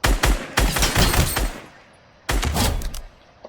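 SCAR assault rifle fire in Fortnite: two dense bursts of rapid, loud gunshots, a short lull, then a third burst, with no voice over them.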